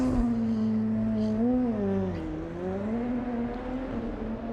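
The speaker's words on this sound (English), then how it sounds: "Engine note rises." A DTM race car engine at the Nürburgring warming up on the way to the grid box, a loud close drone whose pitch rises, wavers and dips, then settles lower, with no voices.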